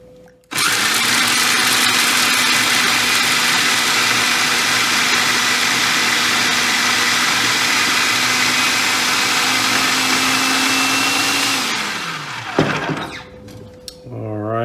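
A kitchen blender runs loud and steady for about eleven seconds, blending basil pesto ingredients, with a high motor whine that winds down near the end. Brief clattering and handling noises follow.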